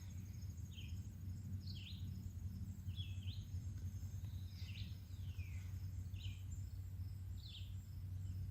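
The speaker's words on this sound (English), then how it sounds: "So let's listen to the birds and nature" Scattered high bird chirps repeating every second or so over a steady low rumble and faint insect hum, all fairly quiet and distant.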